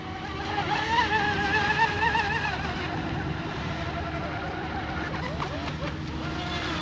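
An American-made J&R Marine H26 RC hydroplane boat running on LiPo batteries at about three-quarter throttle, a loud, steady, high-pitched motor whine with wavering tone, heard continuously from fairly close.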